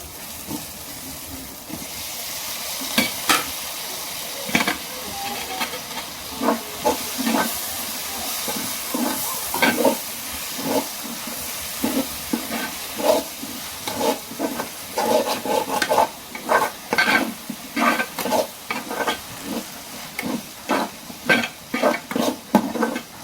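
Tomato tossed into a pan in a village kitchen and stirred while frying: a soft steady hiss runs throughout, broken by a long series of sharp scraping and clacking stirring strokes that grow more rhythmic toward the end.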